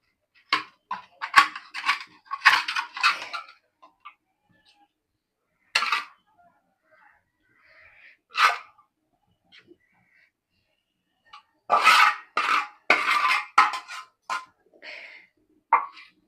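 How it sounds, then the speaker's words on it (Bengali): Pieces of mrigal fish dropped into a pan of curry with potato and pointed gourd: scattered clinks and soft thuds in short clusters, with quiet gaps between, fairly close. "এই যে আমি এখন মাছগুলো দিয়ে দিচ্ছি"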